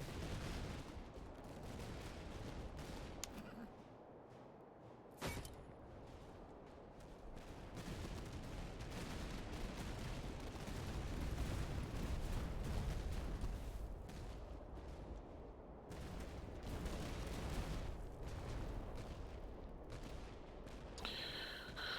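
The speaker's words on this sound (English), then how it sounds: "These Grens have taken a bit of a pounding from their cannons." Continuous battle din from a Napoleonic-era war game: dense volleys of musket fire and booming cannon shots, with a sharp report near five seconds, all sustained and loud with no talking.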